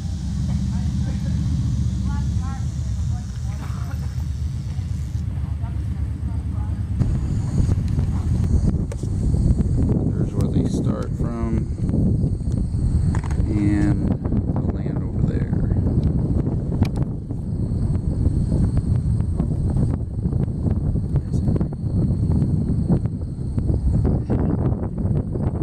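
Steady wind roars and buffets the microphone at the Hyner View hang gliding launch site in Pennsylvania, a loud continuous rumble throughout while people talk nearby.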